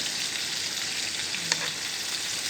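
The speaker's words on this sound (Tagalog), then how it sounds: "Fry ko lang sa butter, lubian with butter." Shrimp frying in butter sizzle in a pan with a steady, soft crackling hiss, broken once by a brief click partway through.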